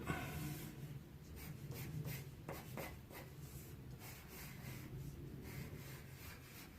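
A pencil moves across paper while a leaf is drawn, giving soft, close scratchy strokes in short repeated bursts over a faint steady hum, with no talking.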